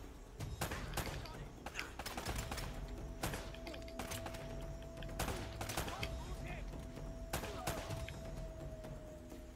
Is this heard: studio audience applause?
no